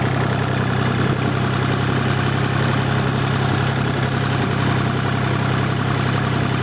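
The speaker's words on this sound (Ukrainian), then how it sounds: "Сниму вам трішки зйомки с трактора." A tractor engine idles steadily in a rural field, a continuous low, even rumble with a constant hum and no talk over it.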